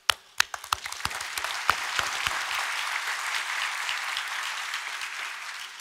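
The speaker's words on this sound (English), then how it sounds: "warmest applause." An audience applauds three scientists at an award ceremony, opening with a few scattered sharp claps that quickly swell into steady, sustained applause filling the hall.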